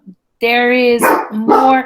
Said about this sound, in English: That's my dog, but he's too big.